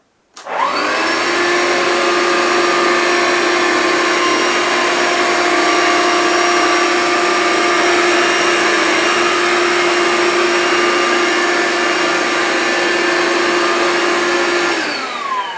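A loud cordless upright vacuum cleaner, a Vax Life or Hoover Linx, starts abruptly on carpet and runs steadily with a high whine and a droning motor, pitch shifting slightly as it moves slowly back and forth.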